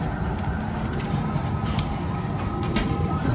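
Young pigeons in a loft coo softly under a steady broadband background hum, with a few brief flutters and scuffs scattered through.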